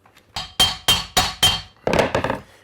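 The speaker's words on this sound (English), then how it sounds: "you can hammer this with your claw hammer and it pulls it and allows it to click into position" A claw hammer taps an engineered wood flooring plank into place: six or seven sharp, evenly spaced knocks, close and loud, ending in a quicker cluster of blows.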